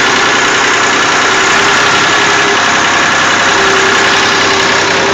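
A tractor engine idling up close, a loud, continuous rumbling drone that holds steady throughout with no voices.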